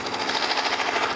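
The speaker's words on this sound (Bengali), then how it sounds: "হেলিকপ্টার।" Helicopter in an Indian bike video game, a steady rotor thrum with a fast pulsing chop, loud and close, heard alone.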